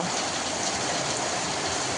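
Steady rain pours down outdoors during a Ganpati immersion in the Konkan, a dense, even hiss with no voices.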